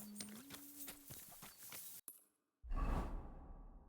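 A horse summoned in the video game Kingdom: a swooshing call is followed by a short silence, then a loud burst of hoof and movement noise close by.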